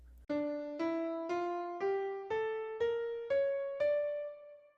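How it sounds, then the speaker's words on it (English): A piano plays an ascending harmonic minor scale of eight evenly spaced notes, with an augmented second near the end, each ringing briefly before the next, with the last one left to decay. "Here's the sound of that harmonic minor scale,"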